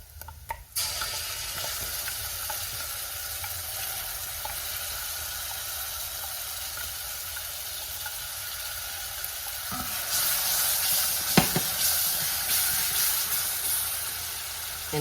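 Tomato paste sizzling in a soup pot while making creamy tomato basil soup: a steady, even frying hiss runs throughout, growing a bit louder and brighter near the end, with occasional light stirring clinks.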